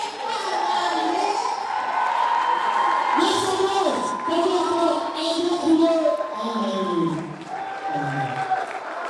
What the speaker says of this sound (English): with a round of applause, let's welcome Dr. Adekunle Alaye.